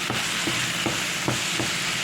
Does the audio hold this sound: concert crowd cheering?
no